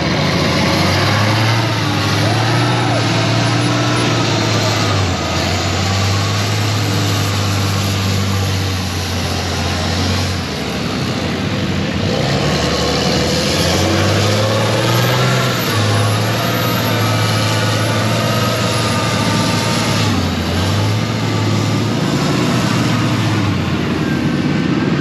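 A massive 6-door truck's engine idling and revving at a mud park, a loud, continuous low rumble that rises and falls in pitch in long swells, heard close and alone.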